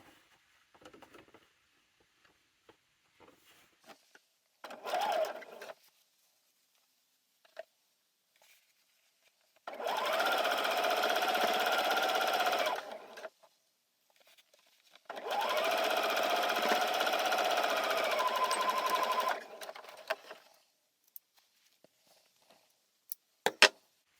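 A home sewing machine stitches the hem of a small doll T-shirt in two long, steady whirring runs of several seconds each, close by, with faint handling taps and clicks in the quiet gaps between.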